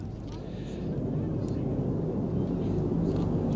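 A Eurofighter Typhoon jet flies in formation with a Lancaster bomber at an air festival, giving a low, steady rumble that swells slightly after the first second and then holds constant at moderate distance.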